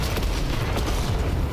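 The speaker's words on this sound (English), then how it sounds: "Heads up, bombardment inbound." Bombardment in the video game Warframe, a dense, loud rumbling wash of explosions and blasts that fills the whole short moment without a break.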